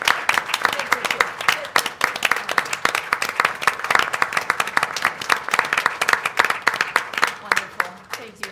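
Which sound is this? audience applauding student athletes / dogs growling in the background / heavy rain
audience applauding student athletes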